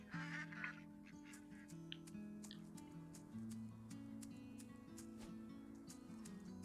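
Ducks on a farm in the video game Farm Together, with honking and quacking calls layered over soft ambient game music, moderately close, with no talking.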